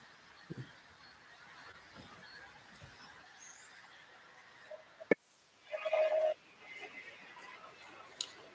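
Two pet birds honking on a rainy day: after a sharp click, one loud, close honk rings out for about half a second, with a few faint calls against a quiet background.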